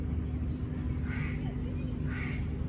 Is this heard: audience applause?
no